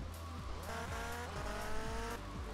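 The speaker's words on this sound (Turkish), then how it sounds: "hemen bir el freniyle dönüş" A handbrake turn in GTA Vice City during an offroad mission, the car's engine revving and shifting pitch while tires squeal sharply through the slide, all fairly close and continuous.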